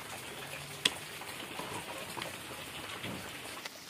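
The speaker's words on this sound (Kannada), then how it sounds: "ಸಣ್ಣದಾಗಿ ಮಳೆ ಬರ್ತಾ ಇದೆ" Light rain falls steadily in a soft, even patter, with a faint tick or drip standing out now and then; quiet and continuous, no voices.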